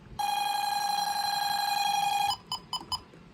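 A Radionics security panel alarm sounds with a steady, loud electronic tone for about two seconds, then cuts out and gives three short, separate beeps.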